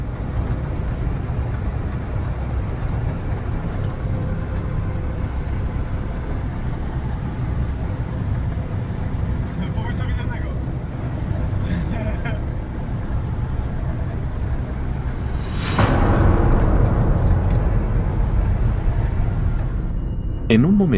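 Car interior at night while driving with a friend, a constant road and engine drone filling the whole clip, with a sharper rushing burst near the end.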